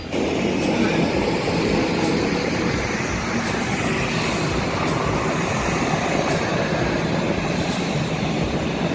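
Airplane engine drone inside the cabin, a loud, steady broadband roar that holds without a break from start to end.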